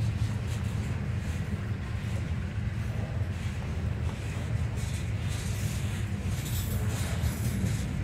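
A long Norfolk Southern freight train rumbles steadily past, a continuous low roar with faint metallic squeals and clatter, no voices.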